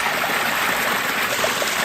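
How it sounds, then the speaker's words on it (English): Backyard pond waterfall flowing over rocks, a steady, close, fairly loud rushing and splashing with no breaks or voices. "So here's where the waterfall comes down"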